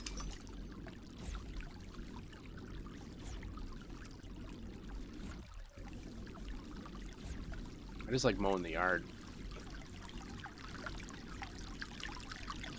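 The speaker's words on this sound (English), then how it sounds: "Should probably tone down the creek sound effects a little bit, right?" Faint, steady trickling of creek water from a video game's ambient sound runs continuously, with a brief spoken line heard over it.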